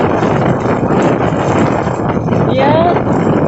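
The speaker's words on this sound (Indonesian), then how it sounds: "Anginnya kencang saudara-saudara." Strong wind in Ambon roars and buffets against the microphone as a constant loud rush, with a brief thin whistle near the end and a faint voice underneath.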